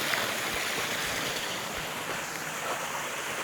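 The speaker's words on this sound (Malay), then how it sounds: "Oh, sini ada waterfall kecil, geng." A small waterfall in the countryside near Tapah, Perak, gives a steady, continuous rushing wash of falling water, moderately loud and unbroken, with no talking.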